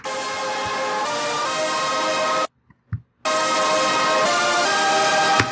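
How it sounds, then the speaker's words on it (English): A harsh, buzzing distorted synth tone drones loudly, cuts out briefly with a couple of soft thumps, then returns just as gritty. "that horrible distortion that sounds like this"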